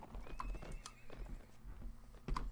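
Horses in the Mount & Blade Warband video game clip-clop steadily nearby while one lets out a loud neigh, with a second whinny near the end.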